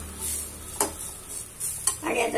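Ground spices, garam masala, chili powder and turmeric, roasting in a pan, a soft sizzle under a spoon stirring and scraping with a few louder clinks against the pan, close and fairly quiet.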